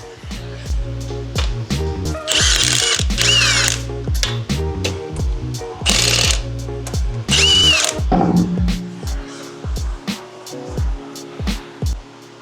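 Cordless impact wrench removing lug nuts from a Ford wheel, several loud bursts of rapid hammering buzz separated by short pauses and clicks, close and dominant, with brief talk between bursts.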